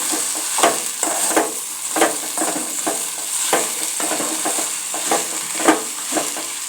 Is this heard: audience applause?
no